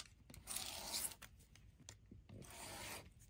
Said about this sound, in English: So I'm going to cut this out real quick.